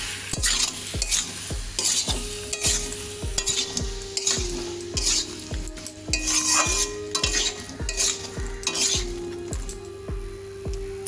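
Ridge gourd and potato fry with chilli powder and spices in a pan, a steady sizzle broken by a regular run of scraping stirs and spatula clinks against the pan.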